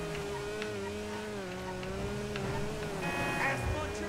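Rune Cheburek sports classic car in GTA 5, a little racer with low torque, engine droning steadily at moderate revs with slight pitch wavers, fairly quiet and continuous.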